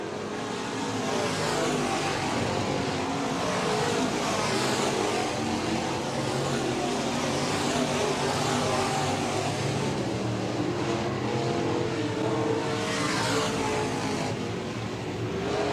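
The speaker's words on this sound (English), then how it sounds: "Rusty Montag whipping that car like a rented government mule, trying to catch up to the 10 end of Nordquist." Sport Compact and SportMod race cars roar around the track at Raceway Park, a dense, continuous wash of loud engines with pack noise and passing swells and no voices above it.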